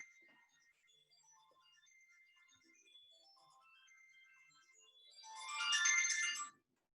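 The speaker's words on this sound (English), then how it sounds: "now my phone's ringing" A phone ringtone plays as a melodic electronic chime, starting faint and swelling to a loud burst of bright tones near the end before cutting off, with no talk over it.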